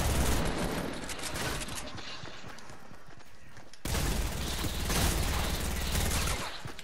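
Dense gunfire in the Fortnite video game, a near-continuous crackle of overlapping shots that drops back briefly, then returns louder for a rapid sustained burst.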